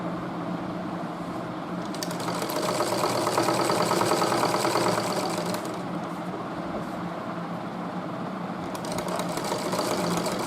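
Sewing machine stitching elastic onto a piece of cloth, running as a loud close steady mechanical whir with rapid needle rhythm throughout, briefly easing in speed midway, with no talk.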